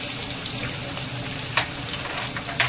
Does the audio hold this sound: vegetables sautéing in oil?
yes